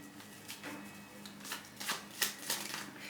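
Cards being shuffled for a spiritual reading, a series of soft riffling bursts that grow denser and crisper partway through, close up and quiet, with no one talking.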